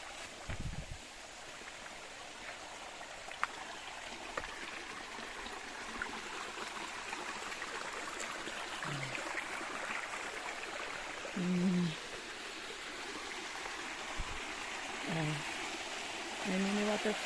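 Small waterfall at Bisay Falls in Sual, Pangasinan, giving a steady, moderately faint rush and trickle of falling water throughout, with brief voices talking now and then over it.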